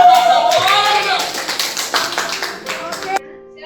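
A classroom group gives a short burst of clapping for a team after a soldering lesson, the claps loud and close, mixed with voices before stopping abruptly near the end.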